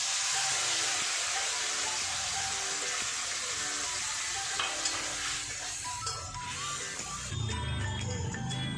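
A ground paste of ginger, cumin, coriander and green chili goes into potatoes already frying in a pan, giving a loud, continuous hissing sizzle close by that shifts in texture as it is stirred, with no voices.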